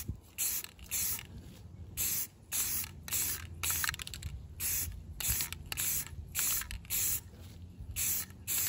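Rust-Oleum flat white spray paint coats a 20-ounce tumbler in a rapid run of short, close hissing bursts separated by brief pauses, with faint clicks from the can between sprays.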